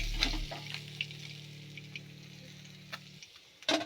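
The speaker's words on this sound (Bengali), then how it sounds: "এইভাবে সব মাছগুলো ভেজে নেব।" Parshe fish frying in oil: a soft, faint sizzle with scattered crackles and light pops, and a low hum fading out after about three seconds, no talking.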